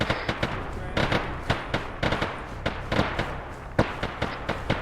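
Dense, overlapping gunfire from a team assault in a military shooter game, sharp shots cracking in rapid irregular bursts over a steady roar of battle, with a few louder close reports standing out.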